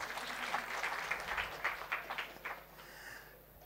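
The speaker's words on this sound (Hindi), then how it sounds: "ताली बजाओ इनके लिए" Applause from an audience at a railway station event, a dense patter of clapping that swells and then thins out over a few seconds, with faint speech underneath.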